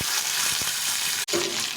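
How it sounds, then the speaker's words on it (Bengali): Potatoes fry in hot oil with dried red chilli and cumin seeds, a steady close sizzling hiss that cuts out for an instant before resuming. "এখন শুকনো লঙ্কা আর একটু সাদা জিরে করে আলুটা ভেজে নেব।"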